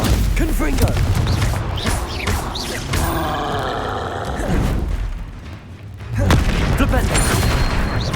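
Spell blasts and explosions from the Hogwarts Legacy video game, including a Confringo fire spell, go off as loud bursts and crashes amid chaotic combat noise, with voices grunting and shouting.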